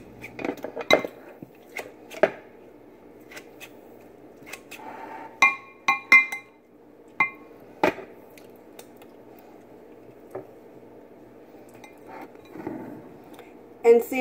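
A kitchen chopper striking cooked chicken in a bowl, scattered sharp metallic clicks and clinks at irregular intervals, close and fairly quiet over a low hum.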